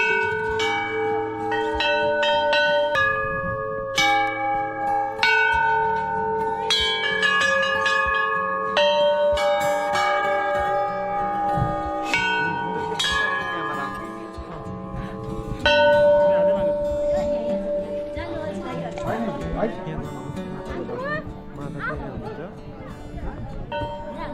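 Temple bells at the Pathibhara Devi shrine ring repeatedly in bright, overlapping metallic strikes throughout, loud and close, with voices talking beneath the clangs.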